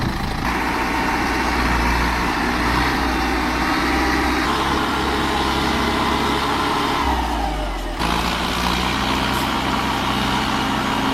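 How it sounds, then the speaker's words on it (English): A Bandit 1990XP wood chipper powered by a 300 horsepower Tier 4 engine runs loud and steady, a dense mechanical roar with a deep low rumble and a brief shift in pitch partway through. "The Bandit 1990XP roars with a 300 horsepower Tier 4 engine"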